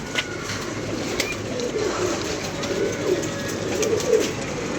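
Low, soft pigeon coos repeat steadily through a constant background hiss, the calls fairly close and overlapping.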